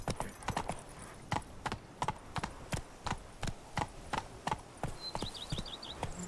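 Roach, a horse in The Witcher 3, trots with steady, evenly spaced hoof clops, close and clear, ending with a few short chirps.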